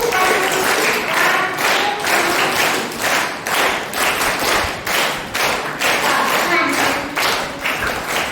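An audience at a Brahma Kumaris summer camp in Burhanpur claps together in a repeating 1-2, 1-2-3 pattern, a loud, steady rhythmic applause that carries on throughout with no voices over it.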